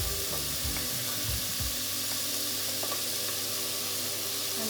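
Carrots dropped into a pot of lightly fried chicken for soup, a steady hissing sizzle with a few soft thuds early on, close and continuous.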